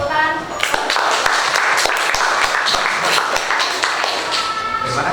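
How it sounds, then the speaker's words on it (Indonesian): An audience at a school open-class session gives a round of applause, with sharp scattered claps over a busy room, while voices talk throughout. "kita beri tepuk tangan"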